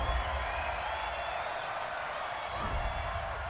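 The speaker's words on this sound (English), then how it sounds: "Well, the crowd doesn't like that." An NFL stadium crowd at a Jaguars vs. Titans game reacts angrily to a penalty flag with a dense, continuous roar of voices that stays steady and full throughout.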